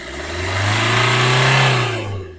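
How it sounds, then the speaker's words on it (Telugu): A 2019 Maruti Vitara Brezza VDI diesel engine runs close by, a steady smooth hum that swells gently as it revs and then eases off. "ఇంజన్ నీట్ అండ్ సైలెంట్గా ఉందండి వెహికల్."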